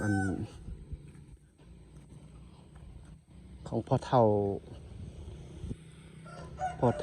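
A rooster crows loudly close by on a farm in Laos, with a brief earlier call and another squawk later, while someone talks over the scene.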